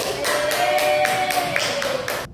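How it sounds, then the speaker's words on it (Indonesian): Children in a primary school classroom clap in a steady rhythmic pattern of about nine even beats, loud and close, ending abruptly. "Beri tepuk tangan untuk"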